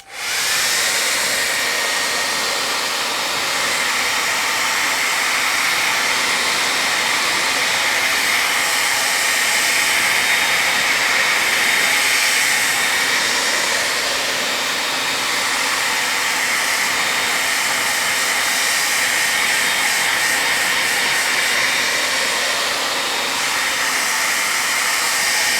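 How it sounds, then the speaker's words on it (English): A hairdryer blows steadily on a painting, a loud, continuous close-up whoosh and whine that holds without a break for the whole stretch. "So I got my hairdryer here"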